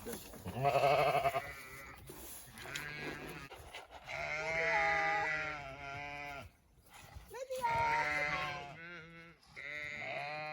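Sheep on a smallholding bleat loudly and close by, with several long, wavering bleats overlapping and alternating across the stretch, and only brief gaps between them.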